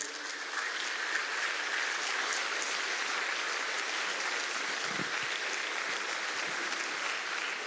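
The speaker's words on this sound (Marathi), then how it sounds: "या मुलांचे सत्कार होत आहेत तोपर्यंत आपण टाळ्या वाजवूया." Audience applauding at a Marathi lecture on the Gita while children are being honoured: steady, dense clapping from a crowd that fills the whole stretch at an even, moderate loudness with no voices.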